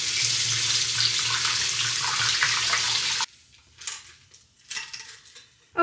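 A bathroom or kitchen sink faucet runs steadily for about three seconds while items, among them a small tin, are rinsed under it. Then the water stops and a few faint clinks and handling sounds follow.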